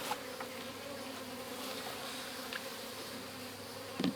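Honey bees swarm around an opened hive during a honey harvest, giving a faint, continuous buzzing drone with a few brief louder passes near the end.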